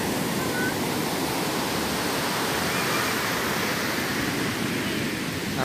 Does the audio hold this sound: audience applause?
no